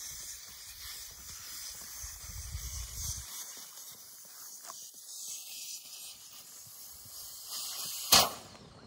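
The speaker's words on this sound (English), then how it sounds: "You'll hear the air start to come out, and then all of a sudden the air will come out" Air hisses steadily from an opened nozzle on a Dometic Pico inflatable camping swag as it deflates, a soft, continuous rush that ends with a sharp, loud pop near the close.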